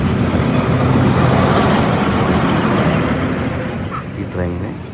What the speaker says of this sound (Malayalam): നാരോ ഗേജ് ഏറ്റവും ചെറിയ ട്രെയിനാണ് ഇതിൽ പോകുന്നത്